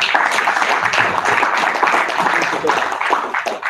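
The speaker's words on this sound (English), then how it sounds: "we owe to the speakers today to give them another applause" Sustained audience applause fills the room at a conference session honoring the day's speakers, a dense steady wash of many hands clapping at fairly close range.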